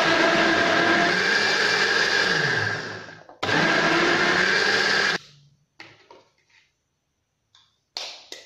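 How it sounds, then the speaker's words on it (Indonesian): An electric blender whirs loudly as it mixes flour batter for kuih. It runs in two long bursts with a brief pause between them, then stops, and a few faint clinks and knocks follow. "Jadi bila kita blend, dia tidak membebankan blender kita."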